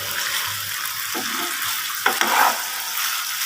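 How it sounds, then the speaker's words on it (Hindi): Chicken sizzling and frying in a pan while its liquid cooks off for a homemade chicken pizza, a steady bright hiss with a few brief stirring scrapes near the middle, close and fairly loud. "अभी हम इसको मज़ीद फ्राई करेंगे।"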